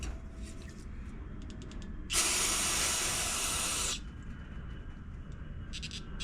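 Spray is blasted onto the carburetor of a Centurion 3250 watt generator in one loud, sharp hiss lasting about two seconds, set between quieter stretches of faint clicking and shop noise.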